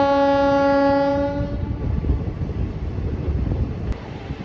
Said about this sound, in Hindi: तो फाइनली गाड़ी हमारी आ गई अयोध्या धाम जंक्शन पर